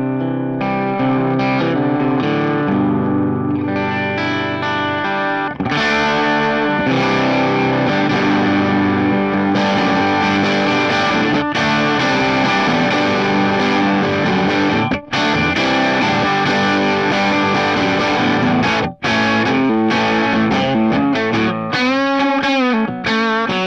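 Electric guitar played through a Phaez Proximo AC30-style amp with the gain turned up, giving a continuous, loud, distorted tone with chords and sustained notes ringing for over twenty seconds and no talking.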